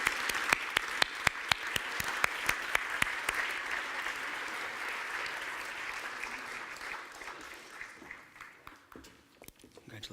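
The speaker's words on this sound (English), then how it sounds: "Please give them each a round of applause." Audience applause fills an award ceremony hall at the 2013 Intercultural Innovation Award, sharp individual claps ringing out over a dense, steady wash of hands that gradually thins and fades toward the end.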